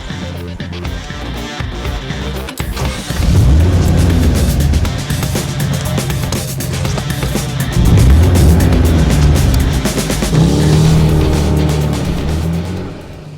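A 1961 Plymouth Fury convertible's V8 engine revs up close, swelling in several loud throttle blips over a steady rumbling idle, with no voices over it.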